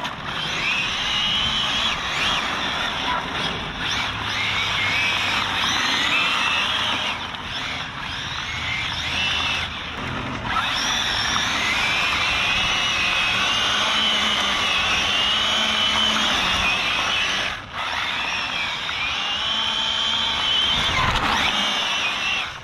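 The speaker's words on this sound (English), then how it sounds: "I just shredded a tire. Here's a piece of it, burning rubber." A car lurches across a bumpy parking lot while grinding down and shredding a tire, giving a loud, continuous roar of engine and scraping rubber with surging and dipping swells and a few abrupt drops.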